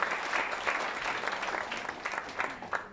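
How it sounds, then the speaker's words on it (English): Audience applause at a global financial regulatory conference in Hong Kong: dense, sustained clapping from a large room, fairly even and continuing without talk. "Can we have another round of applause for our crypto panel?"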